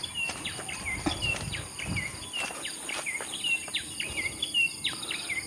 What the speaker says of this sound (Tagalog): yung maliit na ibon na maingay